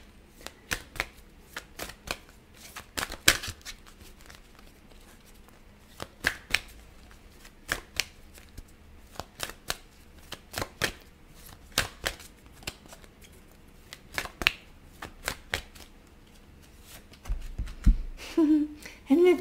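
Tarot cards being shuffled by hand, a steady run of crisp riffling flicks and slaps at close range, with a brief louder handling noise near the end.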